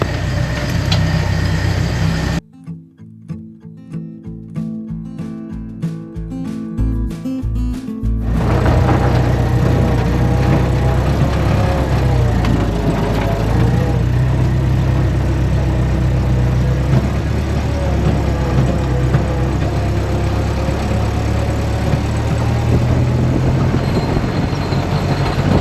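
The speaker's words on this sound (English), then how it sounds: "Don't mind all the clunking noises. It's an old Jeep. We're just driving it around the yard" An old Jeep idles and then drives around a yard, its engine rumbling loud and steady, close by, with a brief choppy stretch near the start and no talking.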